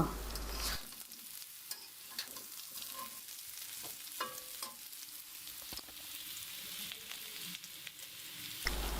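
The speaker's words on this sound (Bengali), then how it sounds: "পরিমাণ মতো তেল দিয়ে আলুগুলোকে ভেজে নিচ্ছি" Potatoes fry in oil in a pan with a steady, soft sizzle and crackle, broken by small scrapes and stirring clicks, fairly quiet and close, with no voices.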